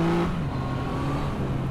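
A Yamaha XSR 900 motorcycle engine drones steadily while being ridden, a continuous moderately loud engine hum with wind noise and a shifting pitch early on, no talk over it.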